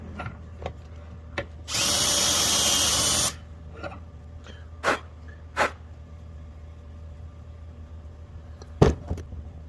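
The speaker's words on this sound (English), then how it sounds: "Get a countersink and clean this up first." A countersink bit whirs in one short, loud burst of about a second and a half as it cleans a drilled bearing bore, with scattered clicks and taps of handling before and after in a quiet workshop.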